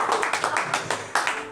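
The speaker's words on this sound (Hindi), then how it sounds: "इस बात पे कितनी जोर से ताली बजाई" Audience clapping at a Hindi poetry performance, a burst of many hands slapping in quick irregular rhythm, moderately loud and close, with a voice mixed in underneath.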